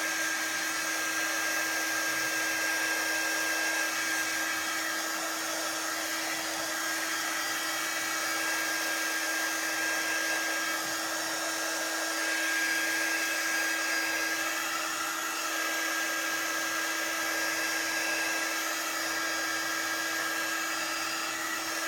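A heat tool blows steadily while drying chalk paste on a spring wreath, softening wax beneath; a continuous, fairly loud hair-dryer-like whir holds for the whole stretch with no talking.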